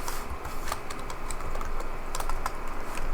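Fingers type on a computer keyboard in a close, rapid patter of keystrokes with a few sharper clacks standing out, and no speech.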